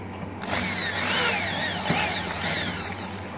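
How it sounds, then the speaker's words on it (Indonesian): A handheld power drill bores into a part while an anti-surge device for high-wattage electrics is being built, a whining motor rising and falling in pitch through a few short pulses, close and loud with no talk. "Kita bor dulu."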